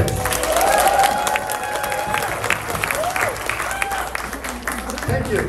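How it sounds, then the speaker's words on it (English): An audience at a Filipino rondalla performance clapping loudly and continuously, with cheering and crowd voices mixed in, close and dense throughout. "Can we hear some loud clapping from the audience?"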